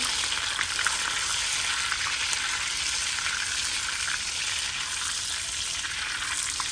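Butter browning in a pan for a homemade apple pie filling, a continuous bright sizzle and crackle holding steady and fairly loud throughout with no talking.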